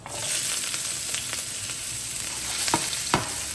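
Ginger, about two inches long, fries in hot coconut oil in a pan for a Kerala-style pork roast, giving a steady loud sizzle with a few brief crackles and stirring clicks. No one speaks.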